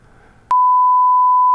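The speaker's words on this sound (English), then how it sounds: "but maybe Ollie, you could beep it out" A censor bleep covers a name during casual podcast talk about a Formula 1 race: brief murmured speech, then one loud, steady electronic tone held for about a second before cutting off.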